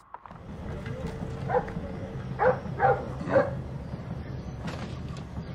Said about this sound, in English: Oh, here comes the dog.